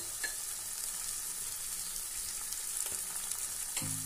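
Chicken coated in masala sizzles steadily in a frying pan while a spoon stirs through it with occasional light scrapes and taps, close and even, with no talking.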